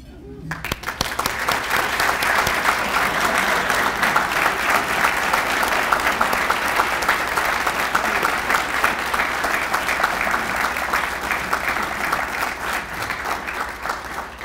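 Sustained applause from an audience welcoming guests at a college scholars event, dense steady clapping that fills the room for about fourteen seconds at an even loudness before tapering slightly.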